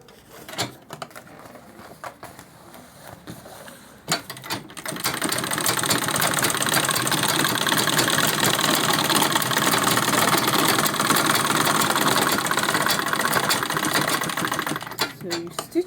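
A sewing machine sews seams on a large lunch and diaper bag. Quiet handling noises come first, then a long, steady, loud whirring run lasts about ten seconds before stopping.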